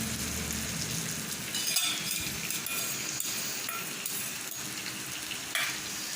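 Beaten eggs fry in a hot pan with a dense, even sizzle up close, dotted with a few faint utensil clicks and clinks.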